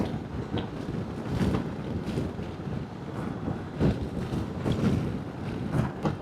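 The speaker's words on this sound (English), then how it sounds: "But even with it, you still get a little bit of wind buffeting." Wind buffets a rider at speed on a motorcycle, a steady, close, broadband roar with soft gusting swells throughout and no talking.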